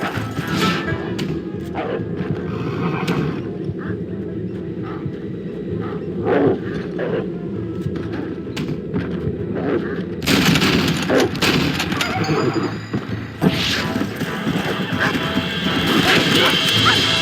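Wolves growl and bark in a Red Dead Redemption hunt, mixed with gunshots and steady game noise; snarling bursts recur throughout, louder and harsher in the second half, with voices shouting over the action.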